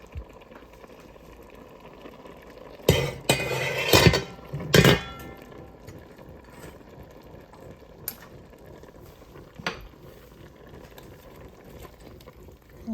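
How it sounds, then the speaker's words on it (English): Strained spaghetti with collard greens and mushrooms is tipped back into a metal pot, giving a few clanking knocks and wet thuds over a low background hiss, then a couple of faint later taps. "Now I'm gonna put it back in the pot."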